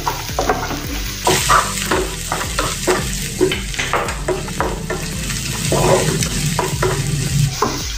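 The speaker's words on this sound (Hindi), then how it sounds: "अभी इसमें हम अदरक लहसुन का पेस्ट डालेंगे। इसको भी 2 मिनट भून लेंगे अदरक लहसुन के पेस्ट को।" Ginger garlic paste sizzles steadily in a hot pan while a utensil scrapes and stirs again and again, close up, with rhythmic knocks against the pan.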